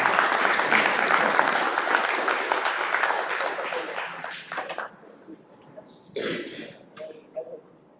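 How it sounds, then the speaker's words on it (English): An audience at the BIC Africa annual gathering gives a round of applause, dense clapping that runs steadily for about five seconds then thins into scattered claps, a cough and murmurs. "round of applause to them"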